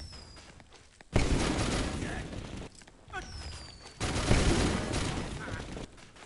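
Enemy gunfire in the video game Let It Die crackles in loud bursts of rapid shots, two main volleys separated by brief quieter gaps, with busy game effects around them.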